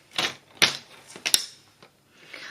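A paper trimmer slices a sheet of paper at the 5.5-inch mark, giving a few sharp, close clacks and scraping snaps spaced unevenly, with no talk.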